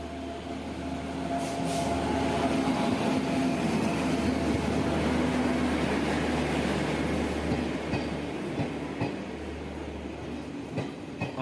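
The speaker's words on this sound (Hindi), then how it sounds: "तभी सुबह सुबह गरीब रथ, जो कि प्रीमियम ट्रेन है, वो अराइव कर रही थी दिलदार नगर स्टेशन पर" Garib Rath premium express train pulling into Dildarnagar station, a loud sustained rumble of rolling wagons with rhythmic wheel clatter and faint squeals, heard close with no voices.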